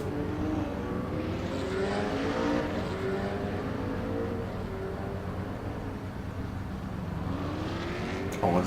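GTR race car driving in the RaceRoom racing video game on the Nordschleife, a continuous simulated engine note with rising and shifting harmonics, steady and fairly quiet, with no talk.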